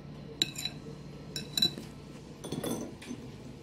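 Peanut butter cake batter being mixed in a bowl, heard as a few sharp utensil clinks and clacks against the bowl in scattered bursts, close and fairly quiet with no voices.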